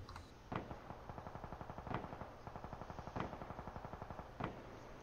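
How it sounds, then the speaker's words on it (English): Rapid, rhythmic machine gun fire in a video game rattles continuously at a fast steady rate, with a few louder single gunshot cracks punctuating the bursts, at moderate volume. "Oh, there's firing."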